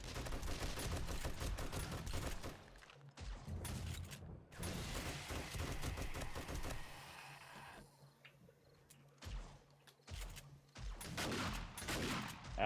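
Rapid bursts of gunfire from the video game 7 Days to Die, repeated volleys with short pauses between them, loud and close, with a few scattered single shots and quieter stretches toward the end.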